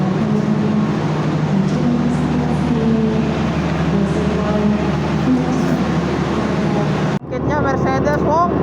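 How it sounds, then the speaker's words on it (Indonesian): Malabar passenger train pulling in at platform 4 of a station, a loud continuous rumble of rolling rail cars with a person talking over it, and an abrupt change near the end. "kereta saya akan datang sebentar lagi."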